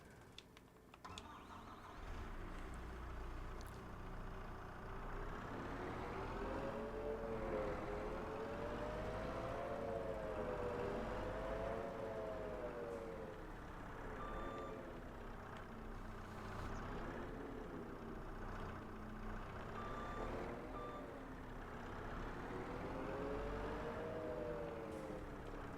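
Small skid steer and forklift working in Farming Simulator 25, engines rising and falling in pitch as they rev, with intermittent high reversing beeps and a steady mechanical rumble underneath.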